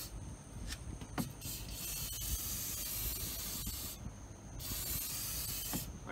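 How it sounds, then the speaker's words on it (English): Several bursts of aerosol water-repellent spray hiss close up into a car power-window track, short pumps followed by longer sustained sprays with brief pauses between. "Spray it inside the track."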